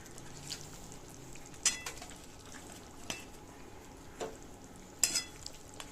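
Papad curry with boiled fried potatoes is stirred gently in a pan, giving a few sparse, soft scraping knocks and brief clinks over a faint steady simmer, close and quiet with no talk.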